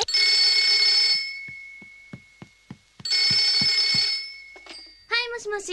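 A telephone rings in a Japanese anime scene, two long bursts of sustained bell-like ringing separated by a short pause with soft knocks, followed by a voice answering.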